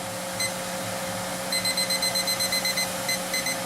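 A kitchen timer at a homebrew beer session sounds a quick run of bright, evenly spaced electronic beeps over a steady background hum, starting after a brief single chirp.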